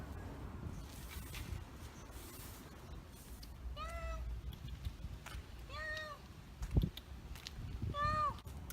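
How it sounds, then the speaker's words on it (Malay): Cats meow three times at intervals, each call rising then falling, over a steady low outdoor rumble with a single dull thump between the second and third calls. "Kucing memang ada kat sini."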